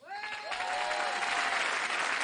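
A studio audience on a French TV entertainment show applauds to vote for Kamel's singing. Clapping swells from a quick start into a dense, steady roar that lasts the whole time, with a held sung or spoken tone fading under it early on.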